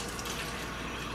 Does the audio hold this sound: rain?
no